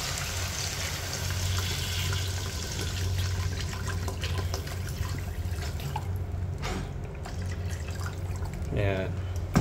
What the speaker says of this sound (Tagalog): Lagyan na natin ang tubig.